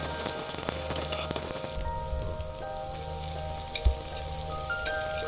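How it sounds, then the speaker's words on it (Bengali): Onion with chili frying in hot oil, a dense steady sizzle with crackling pops, close and loud, with one brief knock partway through. "পেঁয়াজটা একটু ভেজে নেবো আর কিছু ঝাল দিয়ে দিলাম।"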